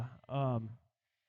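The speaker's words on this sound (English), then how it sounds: "I like this sheep." A single sheep bleats once, a loud, close, harmonic call lasting about half a second, followed by silence.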